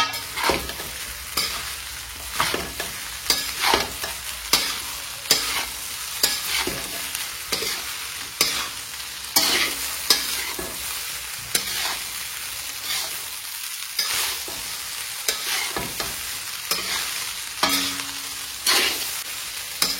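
Chicken fried rice being stirred in a frying pan, a spatula scraping and tossing in repeated strokes over a steady close sizzle, with no talking.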